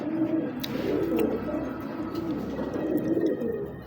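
Racing pigeons coo near at hand in a continuous, rolling low murmur of overlapping calls, fairly faint against a little background rustle.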